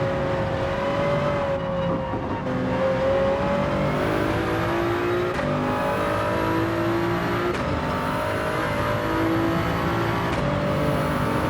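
A Toyota Supra in Gran Turismo 7 drives through chicanes. Its engine hum stays steady and close, rising and falling in pitch as the car changes gears and eases through the turns. The sound runs continuously, with no one talking.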